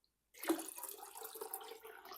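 Water is poured continuously, a second liter going into a container for preserving eggs, with a steady splashing stream that lasts about two seconds, close and fairly loud, and no voices.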